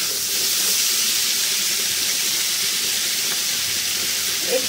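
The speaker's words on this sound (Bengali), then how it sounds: "আর গাজর দিয়ে এগুলোকে ভালো করে একটু কষে নেব" Chopped potato and carrot frying in oil for khichuri, producing a loud, steady hiss and sizzle that holds without break from start to finish, with no talking.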